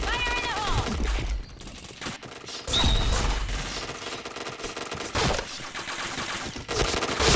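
Gunfire from the shooter game Point Blank comes in dense bursts of rapid shots with short gaps between them, loud and close, mixed with game effects.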